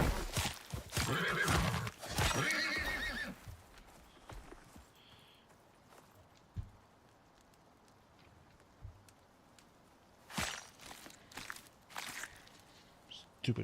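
A horse neighs and whinnies loudly in bursts near the start, with hoof clops and rustling, then fades into quiet outdoor ambience before more loud whinnies and movement return near the end.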